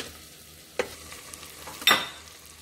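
Frozen green peas are sautéed in a pan, heard as two short scraping stirs over a faint, quiet sizzle. The sound is close and otherwise subdued.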